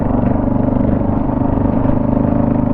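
MotoZ Tractionator adventure tires on a motorcycle riding on pavement, the rear tire's center lugs giving a steady loud drone with a rhythmic low pulsing hum under the engine, continuous and close.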